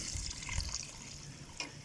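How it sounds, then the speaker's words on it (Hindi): Water pouring into a pot of rice and spices for chicken yakhni pulao, a steady close splashing gush with faint drips, continuous and alone without talk. "अब हम 2 किलो पानी शामिल करेंगे अपने चावलों में और अपने मसाले में"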